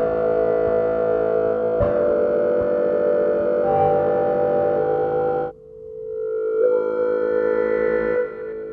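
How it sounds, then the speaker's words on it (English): Two close synth notes played together through a distortion pedal in a dawless hardware setup, a sustained buzzing tone with beating harmonics that shifts to a thinner, altered timbre about halfway through, loud and without speech. "But still with some distortion, hear how it sounds when I play two close notes together."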